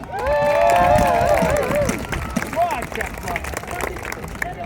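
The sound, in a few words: crowd applause and cheering at a river festival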